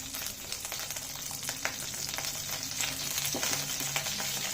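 Garlic frying in about two spoons of oil in a pan for Mangalorean chicken sukka, a soft continuous sizzle with light clicks of stirring, fairly quiet and without talk.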